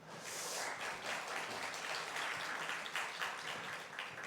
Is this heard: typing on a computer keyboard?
no